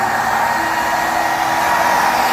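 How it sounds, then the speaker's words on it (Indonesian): A hair dryer blows on a monitor lizard to dry it thoroughly after treatment, giving a loud, continuous steady whir with no pauses. "kenapa di hair dryer? Ini kita harus pastikan dia benar-benar kering."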